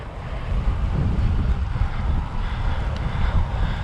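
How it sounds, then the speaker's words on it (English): Strong onshore coastal wind at Giant's Causeway buffets the microphone in a loud, continuous low roar, with surf and sea noise blended underneath and no talking. "And it's properly windy now."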